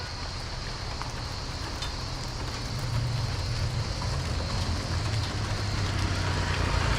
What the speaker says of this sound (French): il pleut là où je me trouve